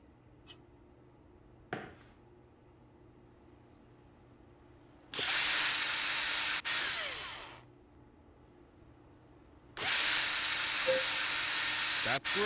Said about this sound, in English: There are screws on the workbench that need to be placed in each of the holes and tightened down with the